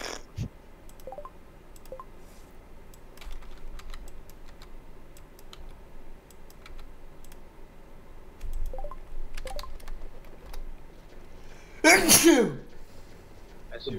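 A single sharp sneeze bursts out near the end, loud and close, after a stretch of quiet keyboard typing and clicking during a live stream.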